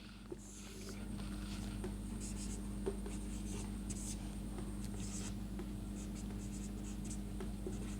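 Chalk or marker scratches a sentence onto a board in a classroom lesson, steady scraping strokes running throughout beneath a low background hum, with faint murmured speech.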